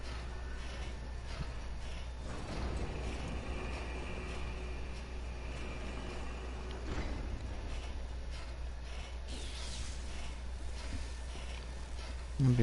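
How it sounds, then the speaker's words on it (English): Elevator machinery in the video game Bloodborne moves with a steady, low mechanical rumble and grinding that runs unbroken through the whole stretch, with no talking. "We'll pull the elevator."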